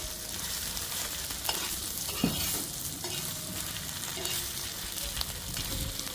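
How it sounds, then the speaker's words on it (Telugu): Grated coconut and onion fry in a pan, giving a loud, continuous close sizzle with occasional spoon scrapes and taps as the mixture is stirred. "చూడండి ఇది బాగా ఫ్రై చేసుకోవాలి."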